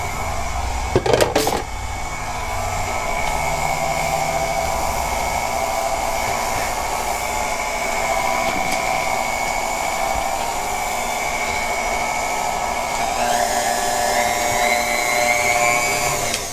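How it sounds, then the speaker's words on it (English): An electric mixer beats flour into pound cake batter, a loud, steady whirring motor drone that runs continuously with a brief bump near the start and a slight shift in pitch toward the end. "So now I'm going to add the remaining flour. We're going to mix it just until it's dissolved."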